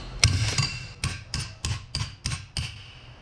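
Steady hammer blows on metal being bent during a 4x4 vehicle modification, seven or eight sharp, loud strikes spaced about half a second apart, heard alone with no talking.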